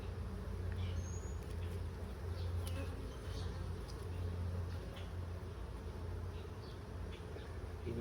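Honey bees buzz in an open hive with a nine-frame configuration, a dense continuous drone of many wings, close and steady, with individual bees zipping past now and then over a low hum.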